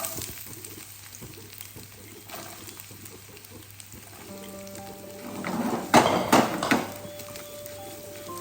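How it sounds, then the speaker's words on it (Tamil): Oil and ghee hit a hot pan and sizzle in a mounting burst that peaks loudly near the end, with faint clatter before it and no talk. "ஆயில் அண்ட் கீ ரெண்டுமே மிக்ஸ் பண்ணி இதில் நான் ஊற்றிக்கிறேன்"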